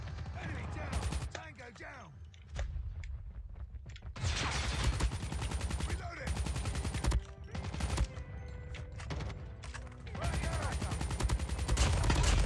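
Repeated bursts of automatic fire from an unmodified KN-44 rifle in Call of Duty Mobile, loud and close. Several sustained rapid-fire strings are broken by short pauses, and a player talks over the shooting.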